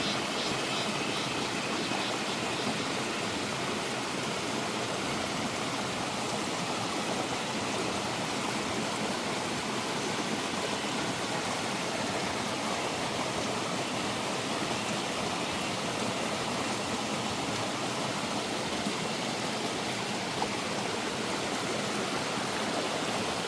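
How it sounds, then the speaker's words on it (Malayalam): A small forest waterfall in Idukki rushes in a steady, dense roar that holds unchanged throughout, with no voices. "ഇപ്പോൾ ചെറിയൊരു വെള്ളച്ചാട്ടം കേട്ടോ"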